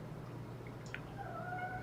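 A cat gives a faint, drawn-out meow or two against a low steady hum of room noise, soft and somewhat distant.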